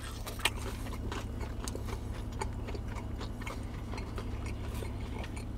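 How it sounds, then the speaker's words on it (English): Crunchy clam and hot pepper tomato pie pizza being bitten and chewed up close at a Robbinsville, New Jersey pizza shop, a steady run of small crisp crackles and ticks over a constant low room hum. "Listen to that crunch, baby."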